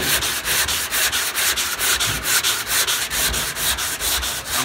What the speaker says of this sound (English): And I just keep sanding.